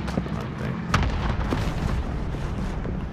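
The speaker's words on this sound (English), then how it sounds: "Oh, that's just a bomb." A bomb goes off in a battle-royale style video game as the gas closes in, a sharp boom near the one-second mark over a constant rumbling din of game noise with no talk.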